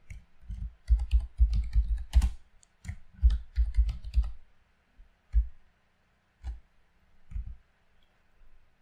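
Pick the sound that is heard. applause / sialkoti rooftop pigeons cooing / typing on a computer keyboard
typing on a computer keyboard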